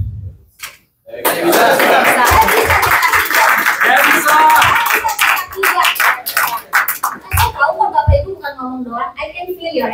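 An audience in a motivational entrepreneurship seminar bursts into sustained hand clapping after a brief pause, loud and dense for several seconds, then thinning into scattered claps with a little laughter.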